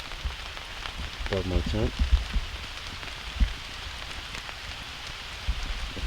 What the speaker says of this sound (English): Starting to rain now. I have a tarp above me,